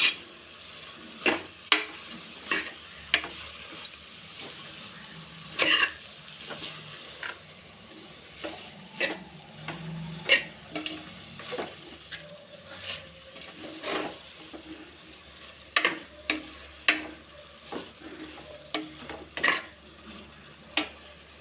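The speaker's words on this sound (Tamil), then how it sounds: "இந்த முட்டைக்கோசு நல்லா ஒரு ரெண்டு நிமிஷத்துக்கு இந்த எண்ணெயிலே வதக்கியாச்சு" Cabbage sizzles softly as it sautés in oil in a pan while a utensil scrapes and taps against it in irregular strokes, nearby with no talking.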